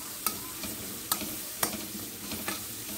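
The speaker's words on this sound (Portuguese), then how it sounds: "Aqui eu vou colocar fio de azeite. Já coloquei a cebola aqui." Chopped onion sautés in a drizzle of olive oil for a pasta sauce, a soft steady sizzle broken by several sharp scrapes of a utensil stirring the pan, with no talking.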